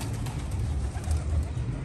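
Pigeons coo in low, soft, throaty murmurs against a steady background hum.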